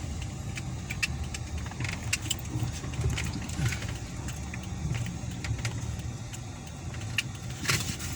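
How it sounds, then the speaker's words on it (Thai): Car turning left and pulling in to park near a land plot in Mae Sot, Tak, Thailand: a steady low engine and road rumble from inside the vehicle, with faint clicks and rattles over it and no talking. "เดี๋ยวผมจะ เลี้ยวซ้ายจอดตรงรถด้านหน้าตรงนี้เลยกันนะครับ"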